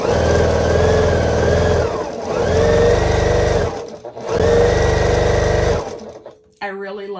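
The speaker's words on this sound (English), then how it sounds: "then I can feed them through the machine faster because they're all set out and ready" A sewing machine runs in three fast, steady bursts with short pauses between them as fabric scraps are stitched into an oversized flying geese quilt block, loud and close.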